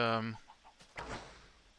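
A chicken in the video game Hidden Secrets 2 lets out one loud, close cluck, followed by a few faint soft clucks and a brief rustle.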